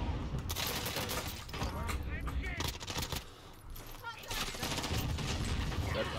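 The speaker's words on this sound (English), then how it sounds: "Being shot from up higher." Gunfire from the Call of Duty Warzone video game, sustained bursts and shots running through most of the stretch, loud and dense, with a brief lull near the middle and voices talking over parts of it.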